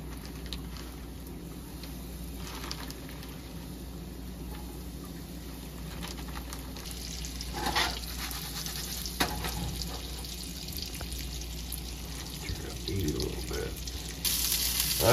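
Pigeon meat fries in warm bear lard, a soft steady sizzle with occasional clinks and pan movements, fairly quiet and close, with a voice talking briefly.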